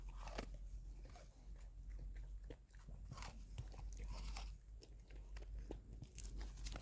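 A dog crunches into a crisp apple near an orchard, with repeated close, sharp bites and wet chewing crackles coming in an uneven rhythm and no talking.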